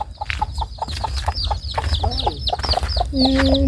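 Chickens cluck steadily in quick, uneven bursts, with a few short crowing-like calls mixed in near the end, close by against a faint rural background.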